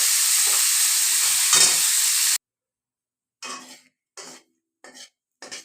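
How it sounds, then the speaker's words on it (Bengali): Potatoes and cauliflower frying in a pan for vegetable khichuri, a loud steady sizzle for about two seconds that cuts off, then short bursts of hissing and stirring. "আলু কপিগুলোকে আগে একটু ভেজে রাখছি।"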